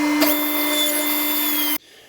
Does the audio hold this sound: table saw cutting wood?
yes